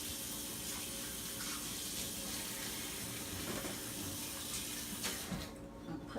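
Water runs from a kitchen tap while dishes are washed up, a soft steady stream with faint clinks and splashes, fairly quiet and easing off near the end.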